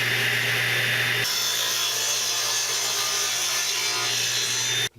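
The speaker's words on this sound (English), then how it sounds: "I'm going to cut a couple of strips of wood out here" Saw cutting strips of scrap wood, a loud, continuous close-up cutting roar that shifts in tone after about a second and stops abruptly at the end.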